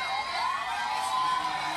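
Loud, dense crowd cheering and shouting at a rap battle, a steady wall of voices carrying on without a break.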